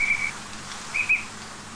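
A whimbrel gives short, clear whistled notes, a pair at the start and another pair a moment later, heard alone over a soft, steady background hiss.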